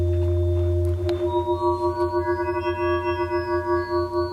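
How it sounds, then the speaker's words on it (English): Sequential Pro 3 monosynth wavetable oscillator holding a sustained tone whose timbre shifts smoothly as bright upper harmonics sweep in over a steady low drone, electronic and alone. "But the third oscillator is really new. It's a wavetable oscillator."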